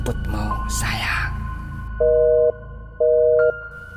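Telephone call ending tone: two long steady electronic beeps, each about half a second, repeating at a regular interval after a brief voice, loud and clear over a faint background hum.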